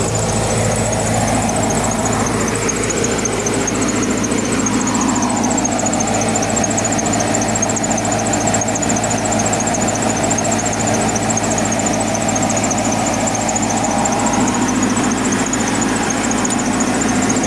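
An MTZ 82.1 tractor engine runs steadily while sowing corn, a close, loud, continuous diesel chug with a constant rhythmic knock and a faint high whine, heard alone without talk.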